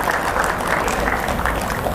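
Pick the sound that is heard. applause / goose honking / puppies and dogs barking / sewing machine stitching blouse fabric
applause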